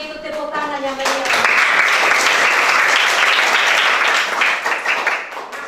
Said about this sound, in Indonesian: Kalau begitu tepuk tangan yang meriah.